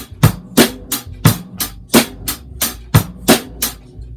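A close drum kit groove: crisp hi-hat strokes in a steady eighth-note pulse with thumping bass drum and snare hits mixed in, no talking.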